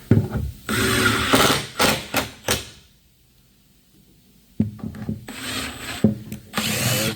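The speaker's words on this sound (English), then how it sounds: "Let's get these screws in here." A power drill drives screws into a custom wooden cabinet, with loud close whirring bursts, a quiet pause, then more drilling and a few knocks and clunks of wood.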